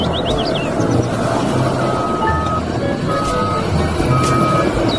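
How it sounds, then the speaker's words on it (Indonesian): Snowplow truck running with a continuous engine rumble and repeated high reversing beeps at a steady rhythm, fairly loud and close, with a few chirpy electronic tones over the top. "Ini mobil pemecah salju"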